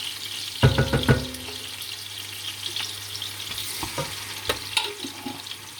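Chicken wings turning in a hot frying pan, a steady sizzle with a cluster of loud scraping, clattering turns early on and softer stirring knocks later, no speech.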